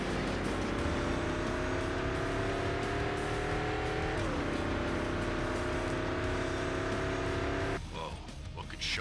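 A car accelerates in the racing game Fast and Furious Showdown, a continuous loud engine tone holding steady pitch, dipping briefly midway, before a burst of crashing noise near the end, with voices talking over it.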